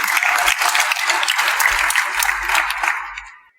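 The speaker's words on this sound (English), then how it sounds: "Give her a round of applause." A conference audience applauds a speaker's introduction, with steady, dense clapping from many hands that holds for a few seconds, then thins and fades out.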